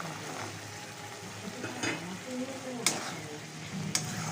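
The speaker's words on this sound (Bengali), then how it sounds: "কড়াইশুঁটিগুলো এর সাথে একটু কষিয়ে নেব।" Green peas are stir-fried in spice masala in a kadai for a cauliflower-potato dish, a close sizzle with stirring strokes and two sharp clicks of a utensil against the pan.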